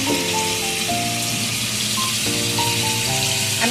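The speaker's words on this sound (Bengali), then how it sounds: "আমি ভেজে আপনাদের দেখাচ্ছি" Chicken kebab skewers frying in hot oil, a steady, loud sizzle like rain on a surface, continuous and close, with a soft musical background.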